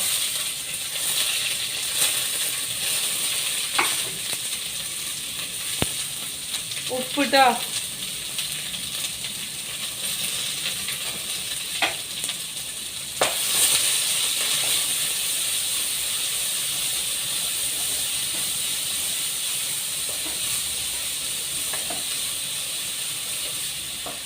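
Curry leaves, chillies, garlic and a large onion sizzle in hot oil for a semolina upma breakfast, giving a steady close frying hiss with occasional utensil clinks while someone talks over it.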